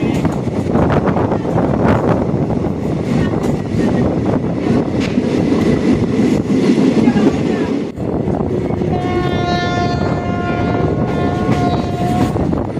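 A train running between Khandala and Karjat rumbles steadily along the rails with a loud continuous roar and rhythmic clatter, joined later by high tonal squeals or a horn-like whine.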